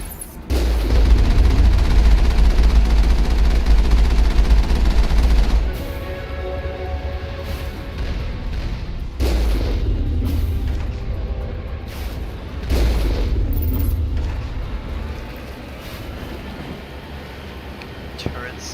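Heavy gunfire and booms from turrets in the video game Mass Effect, loud and sustained in several bursts with pauses between them, a voice talking over the barrage.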